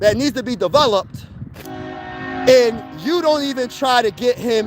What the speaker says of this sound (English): Sorry about the train, y'all.